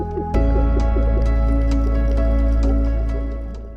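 Underwater bubbles burble and drip while snorkeling in the Surin Islands, a steady bubbling wash over a low rumble that fades toward the end, with no talk.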